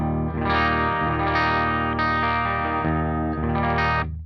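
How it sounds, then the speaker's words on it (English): Clean electric guitar from a Cort M600 played through a Marshall DSL-40 amp, loud and close with sustained ringing chords and a few re-struck notes, no talking. "Here's my clean sound. I'm using my Cort M600 through my Marshall DSL-40."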